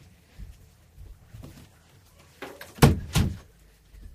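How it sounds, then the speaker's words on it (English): An indoor door is pushed shut, giving two close, solid thumps in quick succession over a quiet room background. "I had to close the door so there won't be noises to interrupt my video"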